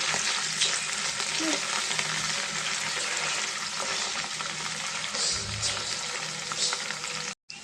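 Chopped onions frying in oil in a pan just used for frying fish, a constant close crackle with scattered stirring scrapes and a brief cut near the end, no voices.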